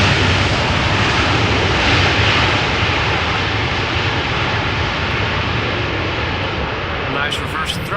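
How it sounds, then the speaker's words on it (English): Airliner landing at Amsterdam Schiphol with loud, steady roaring reverse thrust filling the whole span, broad and close. "nice reverse thrust there"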